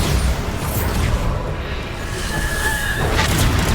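A Bombarda spell detonates in the video game Hogwarts Legacy, giving a loud, sustained rumbling boom that swells and rolls for several seconds, with a brighter crackling burst near the end.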